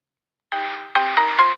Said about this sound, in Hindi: मैं आप लोगों को एक दो रिंगटोन ही सुना पाऊंगा।